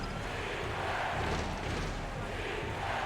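Home crowd in a basketball video game, Oakland Otters vs Las Vegas Jokers, chanting on defense: a steady, dense roar of many voices that swells slightly midway and holds at an even, moderate level with no clear rhythm.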